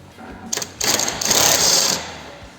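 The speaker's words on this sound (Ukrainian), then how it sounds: "Давайте перевіримо взагалі, чи зможе цей гековерт справитись." A Stark CIW-2090B impact wrench works a nut loose at a service station: a brief burst, then a sustained loud rattling hammer lasting over a second, close and dominant.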